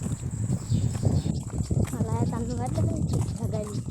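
A horse led along a road with its hooves clopping in a steady walking rhythm, close and fairly loud, while other voice-like sounds overlap partway through.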